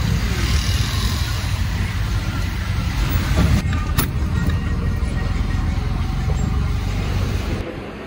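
Auto rickshaw at a roadside rickshaw stand, a continuous engine rumble amid steady street traffic noise, loud and close throughout.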